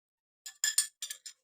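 A bowl being set down gives a quick run of about five light, bright clinks, close and quiet against silence.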